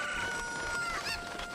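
Chickens from The Legend of Zelda: Ocarina of Time, heard as a steady run of clucking and squawking game sounds over a faint tonal hum, with one brighter bird call near the end.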